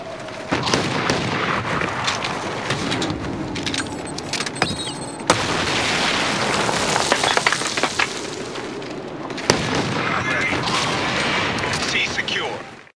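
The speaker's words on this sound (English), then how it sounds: "a look at one of the shotguns within Call of Duty Ghosts" Shotgun blasts and game action in Call of Duty: Ghosts, Blitz mode on the Chasm map, a few sharp, loud bursts over constant gameplay noise with voice chatter mixed in.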